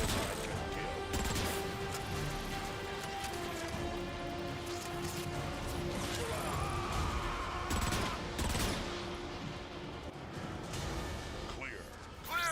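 Rapid gunfire, heavy blasts and crashing impacts from warp-cannon shelling on the Ark in the Transformers: Fall of Cybertron video game, a dense continuous barrage with voices talking throughout.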